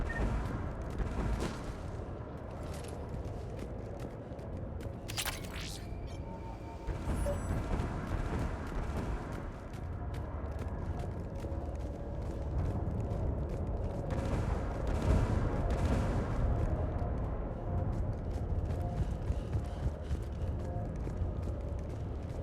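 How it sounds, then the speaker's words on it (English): Mounted turret fire in the video game Mass Effect 3, heavy booming shots and bursts over a dense, noisy battle backdrop, loud and continuous with a sharp blast partway through; no speech. "Mounted turret."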